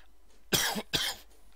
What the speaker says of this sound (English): sorry if I keep coughing all the way through this, but I am absolutely ram-packed full of cold